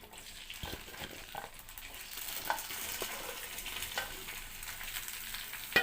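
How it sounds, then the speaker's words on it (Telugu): Okra (bhindi) sizzles steadily in a hot pan as it fries for a dhaba-style onion and okra dish, a continuous hiss with occasional stirring scrapes, close and fairly quiet. "ఇప్పుడు బెండకాయలు వేసి దీంట్లో ఫ్రై చేసుకుందాం."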